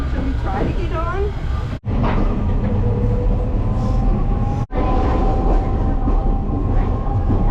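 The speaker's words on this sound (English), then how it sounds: "Waiting for like a subway thing, or I guess a streetcar." Rumbling rail noise with rattling and screeching fills the scene as a streetcar rolls in, loud and close, with people talking over it.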